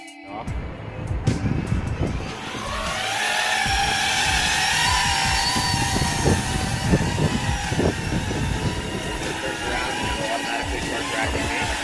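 A Skydio drone lifts off outdoors on a breezy day, its rotors building into a close, buzzing whine that holds steady, while people talk quietly nearby.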